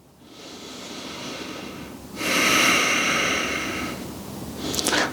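Deep breathing during a bodyweight workout stretch at home: a slow inhale through the nose, then a longer, louder exhale, close and alone.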